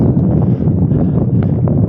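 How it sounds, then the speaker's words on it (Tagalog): Strong headwind buffets the microphone on a bike commute, a loud, steady low roar of gusting air filling the whole moment without speech. "Grabe yung headwind na yun."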